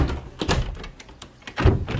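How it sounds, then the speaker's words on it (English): A door is pushed shut in an office area open to the public, giving a couple of dull thuds and a louder closing knock near the end, with no voices over it. "Don't close the door on me."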